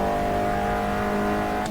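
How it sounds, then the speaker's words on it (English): An Abarth 500 engine in the Assetto Corsa racing game drones steadily under acceleration on track, a close, loud, sustained tonal hum holding level throughout. "we're gonna start pushing the Abarth now. First lap, here we go."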